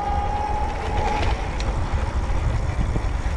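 Tower Beach Bum 2 electric cruiser bike motor giving off a thin, steady high whine during the first second or so, then fading under heavy rumbling wind noise while riding.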